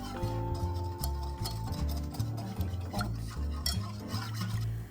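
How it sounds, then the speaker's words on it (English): A whisk beats cornstarch and salt in a bowl, its quick rhythmic metallic ticking and scraping up close with a faint low hum underneath. "And then we'll take the whisk and whisk it"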